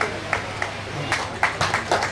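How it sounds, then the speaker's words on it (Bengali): Scattered audience clapping at a blood donation camp run by a local sporting club: a few sharp claps and short bursts, uneven and moderately near, over a faint background hum. "একবার জোরদার করতালি হোক না"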